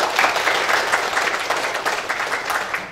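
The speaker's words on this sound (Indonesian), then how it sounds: "Boleh tepuk tangan" Audience applause at a laboratory inauguration ceremony, a steady, fairly loud wash of many hands clapping that holds evenly throughout with no break.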